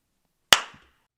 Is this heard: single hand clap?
yes